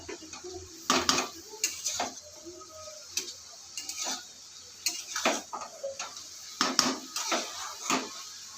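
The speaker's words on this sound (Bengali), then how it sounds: "সব পাতাকপিগুলো দিয়ে দিয়েছি, দিয়ে মশলার সাথে ভালোভাবে নেড়ে নেব।" Shredded cabbage is stirred with cumin, pepper and spices in a pan for a fish and potato curry, with irregular metallic clinks and scrapes of a spatula against the pan, close and fairly quiet.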